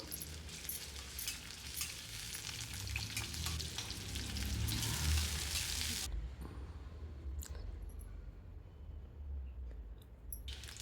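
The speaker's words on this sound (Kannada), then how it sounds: "ಸ್ವಲ್ಪ ಈರುಳ್ಳಿ ಫಸ್ಟು ಗೋಲ್ಡನ್ ಬ್ರೌನ್ ಬರೋವರೆಗೂ ಹುರಿಬೇಕು" Onions sizzling in oil and ghee in a kadai for paneer curry, a steady close frying hiss that drops abruptly to a quieter sizzle partway through, with faint clicks of stirring.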